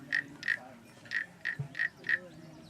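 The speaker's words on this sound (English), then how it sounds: "this is my little tree frog" A little tree frog croaking, six short raspy calls in a loose, even rhythm, close and clear over a quiet background.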